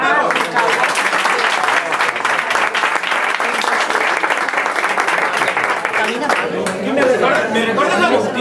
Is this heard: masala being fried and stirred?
no